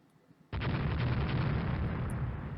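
Naval gunfire in the video game Rule the Waves: after a brief quiet lead-in a loud, sudden blast of ship cannon fire erupts and holds as a sustained, rumbling roar that fades only slightly.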